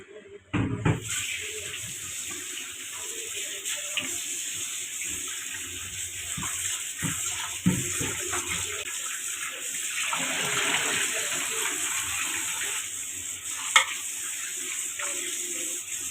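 Fish rubbed with turmeric and salt being rinsed under a running tap, a steady gush of water with occasional handling knocks, close and continuous.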